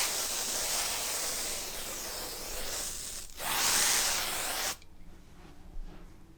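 A can of atmosphere haze aerosol sprayed in short bursts, producing a loud, steady hiss that swells briefly and then cuts off, leaving near silence.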